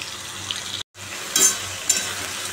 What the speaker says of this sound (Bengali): একটু লাল করে ভাজি আলুগুলো